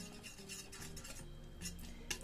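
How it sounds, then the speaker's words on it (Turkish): Stirring thickening milk pudding (muhallebi) in a pot for a Laz böreği dessert, a steady scraping and clinking of utensil against metal, close and moderately loud, continuous with small irregular knocks. "Karıştırmaya ara vermeden bu şekilde."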